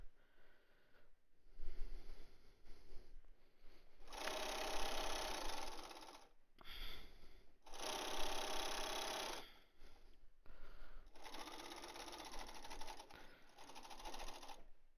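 Fabric face masks are being stitched on a sewing machine that runs in three distinct loud bursts with quieter handling noise and pauses between, recorded close.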